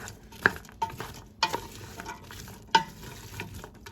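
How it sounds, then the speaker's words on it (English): Carrots, celery and onion sauté in a soup pot with a quiet, low sizzle, broken by a few sharp clicks and knocks as a utensil stirs the vegetables. "I'm just going to let that saute and soften a little bit"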